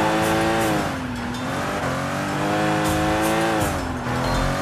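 Engine of a car being driven in the video game Sleeping Dogs, a steady loud whine rising and falling with gear changes and revs, with tyre squeal, continuous and alone without talk.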